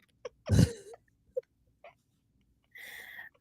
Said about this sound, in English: Did you hear the cough?